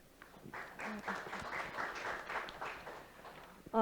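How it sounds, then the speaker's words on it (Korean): Audience applause at a forum on sustainable development data, a sustained wash of clapping from a seated crowd welcoming a presenter, steady and moderately loud, ending with a brief louder sound. "큰 박수로 맞이해 주시겠습니다"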